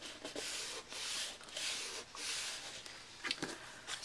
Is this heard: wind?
no